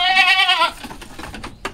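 Native and Boer goats bleat on a farm, with one loud, close, wavering call followed by a few short, fainter bleats.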